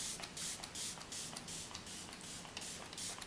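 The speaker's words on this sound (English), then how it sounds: "It's the Algenist Splash Setting Mist, and I always just use one, especially if I'm wearing a lot of powders." Algenist Splash Setting Mist is sprayed in a quick series of soft, fine hissing bursts, about a dozen short puffs in an uneven rhythm, faint and close.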